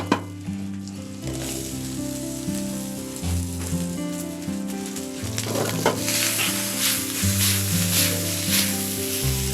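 Asparagus sizzles steadily in butter and shallots in a hot spider pan, a bright continuous frying hiss with stirring scrapes, over a sustained tonal background.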